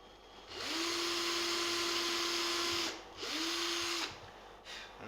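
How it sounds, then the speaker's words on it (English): Power drill boring a pilot hole for a screw in a tumbi build, a close, steady whining motor run held for about two seconds, then a shorter second burst, with no talk. "I'm just going to drill a pilot hole for the screw."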